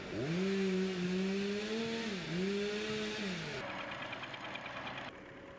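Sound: chainsaw running near a forest

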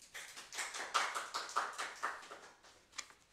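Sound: congregation clapping

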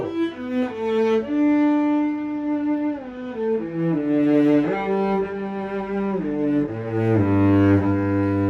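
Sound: cello played through pickup

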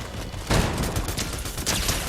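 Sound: Kalashnikov rifle gunfire in a video game

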